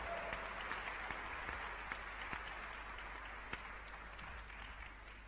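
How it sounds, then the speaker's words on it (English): A conference hall audience at a global entrepreneurship summit plenary session applauds to welcome a speaker to the stage, a steady, sustained wash of many hands clapping at moderate distance with no talking over it. "please welcome her with a warm round of applause"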